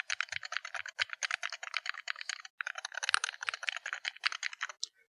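Rapid, steady clacking of keys on an Attack Shark X68MAX budget mechanical keyboard, close and crisp, with a brief pause midway before the typing resumes.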